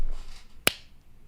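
A single sharp hand clap rings out close and crisp during a quick round of claps on a podcast, a lone short snap against quiet room tone.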